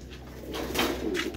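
A pigeon in a loft gives a low, soft coo over a steady background hum, rising briefly in the middle of a short moment.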